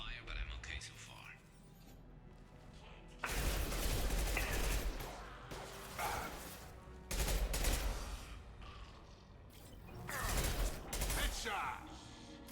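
Gunfire in Mass Effect 2 arrives in heavy rolling bursts of automatic fire with booming low impacts, alternating with quieter stretches where a voice talks over the combat.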